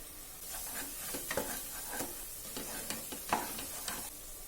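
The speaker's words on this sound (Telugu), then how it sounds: "ఇలా చుట్టుపక్కల నూనె బయటకు వచ్చే వరకు బాగా ఫ్రై చేసుకోవాలి" Biryani masala powder frying in oil in a pan, a soft continuous sizzle broken by scraping stirs and occasional spoon knocks, fairly quiet and close.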